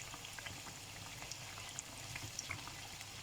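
Dahi bhalla frying in oil on a low flame, a quiet continuous bubbling and crackle with small pops, faint and even throughout.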